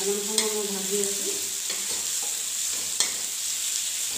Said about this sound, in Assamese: অকণমান সময় মই ভাজি আছোঁ